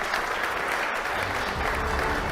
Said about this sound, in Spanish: le brindamos un nuevo gran aplauso a nuestro público que está presente